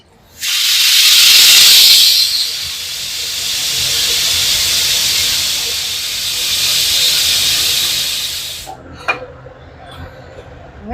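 A loud, steady hiss of steam escaping from a pressure cooker for about eight seconds, then cutting off, followed by a few faint clicks.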